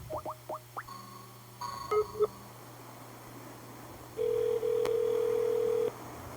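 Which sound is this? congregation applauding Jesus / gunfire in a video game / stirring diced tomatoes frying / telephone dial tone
telephone dial tone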